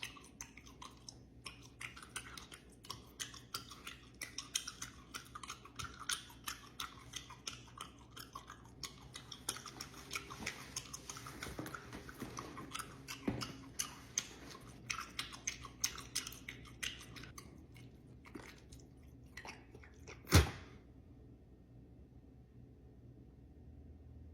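Close, wet chewing of gum in a quiet room, a long run of irregular smacks and clicks that ends in one loud sharp snap.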